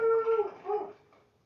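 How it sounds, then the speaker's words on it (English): A dog close by whimpers and lets out a short, wavering howl in two rising-and-falling cries that fade away, with no talk over it. "That is Juliet, my son's dog."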